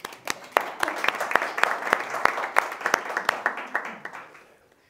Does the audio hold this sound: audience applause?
yes